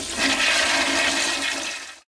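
A toilet flushing, a loud rushing gush of water that runs steadily for about two seconds and then cuts off abruptly, heard close and alone.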